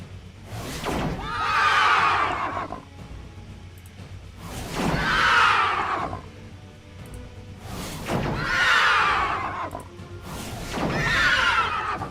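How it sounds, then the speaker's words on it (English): Horses in the Master of Magic video game neigh after being zapped, four loud, drawn-out whinnies spaced evenly apart, each rising and then trailing off. "Horses don't like getting zapped."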